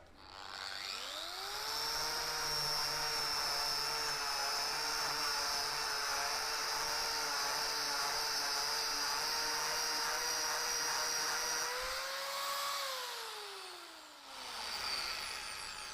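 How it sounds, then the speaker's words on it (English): Power carving cutter with a tungsten tip cutting into timber, a high steady whine rising as it spins up, holding for about ten seconds, then winding down, close and alone. "So you can see how easily I've just gotten a good inch or so into that timber."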